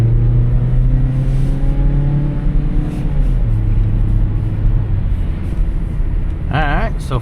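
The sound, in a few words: 2015 Chrysler Town & Country driving on test track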